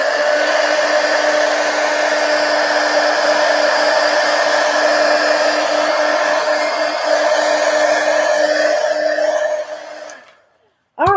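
A hair dryer blowing steadily to dry ink on a sketchbook page, a constant loud whirring drone that runs about ten seconds before switching off.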